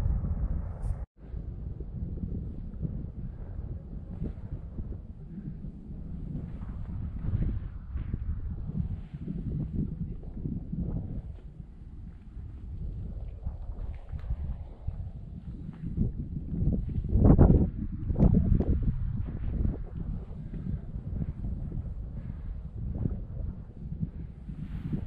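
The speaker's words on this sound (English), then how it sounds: "A little bit of wind coming in now, with some incredible views as you can see behind me." Wind blows across a mountain summit in the Lake District fells, a continuous low rumble with gusts that rise in the middle of the stretch.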